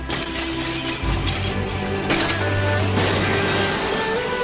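Anime sound effect of a spear shattering under a sword strike driven by the force of a breath, in a battle between Hades and Qin Shi Huang: a loud, sustained crashing and splintering burst with a deep low rumble.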